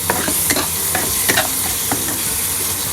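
Spice masala fries in hot oil for prawn malaikari, giving a loud, constant sizzle broken by rhythmic scraping strokes as it is stirred, with nobody speaking.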